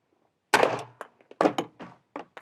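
A 40 mm LBD launcher is loaded and snapped shut, giving a close metallic clack followed by a series of smaller clicks and knocks from handling the breech, with no talk.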